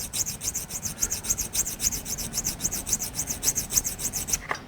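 AR-15 rifle part being sanded with grit abrasive, a rhythmic back-and-forth rasp of about twenty even strokes, close and fairly loud, with no talking.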